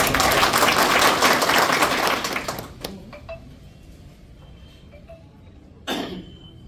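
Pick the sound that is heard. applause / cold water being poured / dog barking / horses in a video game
applause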